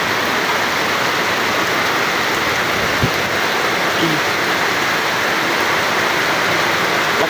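Heavy rain pours down steadily at a beach where people are swimming in the sea, a dense continuous hiss that fills the scene, with a faint voice briefly under it.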